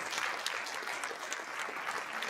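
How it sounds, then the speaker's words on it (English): Audience applause at a school district State of Our Schools event, dense continuous clapping from a large crowd, steady and even for the whole stretch. "Let's give them another round of applause"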